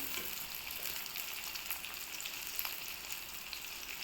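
Frying in a clay cooking pot before onions and green chillies are added, a soft continuous hiss and crackle at low volume with no voices.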